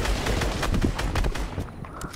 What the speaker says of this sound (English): we're getting shot from somewhere else, by the way.